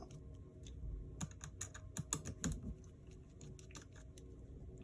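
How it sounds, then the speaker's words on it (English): Work on removing the keyboard from a 2011 MacBook Pro yields quiet, irregular clicks and small plastic taps, clustered in the middle, against a low background hum. "we're almost done removing this keyboard"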